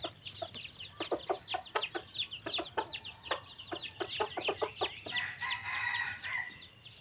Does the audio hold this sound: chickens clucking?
yes